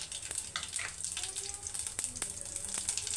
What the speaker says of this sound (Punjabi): ਆਪਣਾ ਤੇਲ ਹੋ ਗਿਆ ਗਰਮ ਤੇ ਆਪਾਂ ਪਾ ਦੇਣੇ ਇਹਦੇ 'ਚ ਜੀਰਾ